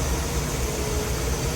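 A gasoline boat engine runs steadily at idle, a constant low rumbling drone with broad hiss, close and unbroken over a short stretch, with no voices.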